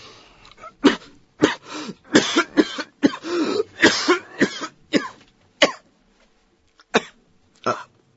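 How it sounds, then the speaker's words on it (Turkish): A sick man in a Turkish radio drama coughs in a series of harsh, close bursts, some clustered rapidly and others spaced apart, with raspy throat-clearing between fits and no speech. "Öksürük. Beni boğacak."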